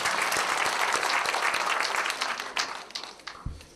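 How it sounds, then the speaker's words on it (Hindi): Audience applause thanking the organisers at a gathering, a dense wash of many hands clapping that holds steady and then thins out and fades toward the end. "हम पुरजोर तालियों से इन साथियों का जो है वो शुक्रिया अदा करें"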